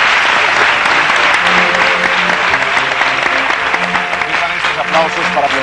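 Loud, dense applause from a television studio audience for body painting artists, their models and team, sustained throughout with voices mixed in.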